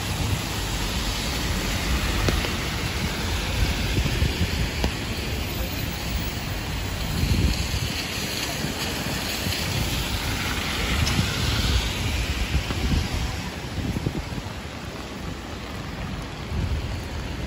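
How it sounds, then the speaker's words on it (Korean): Strong wind and heavy rain batter a city street during a storm under a heavy rain warning, a steady loud roar of gusts and downpour with no break, close and enveloping throughout. "어쩐지 바람이 세더라"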